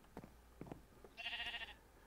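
A sheep bleats in Minecraft SevTech Ages, one short wavering bleat after a few soft blocky footstep thuds, faint and alone without talk.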